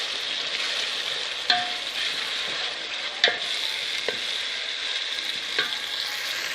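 Onion, ginger and crushed garlic fry steadily in a pan, a continuous hiss with a few sharp clinks and scrapes from stirring, close and without talk.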